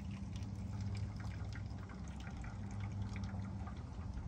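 Apple juice pours steadily from the release spout of a Nama J2 juicer at an orchard, a soft continuous liquid trickle with a low hum underneath, quiet and close.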